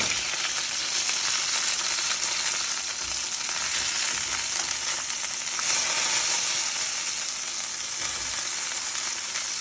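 Chicken frying in a pan for chicken piccata, giving a loud, dense, unbroken sizzle and spatter that holds steady throughout, with no voices.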